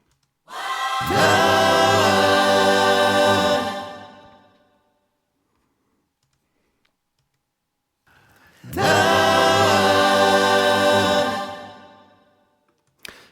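Two sustained swells of layered choir voices, each rising, holding for a few seconds and fading, separated by a stretch of near silence.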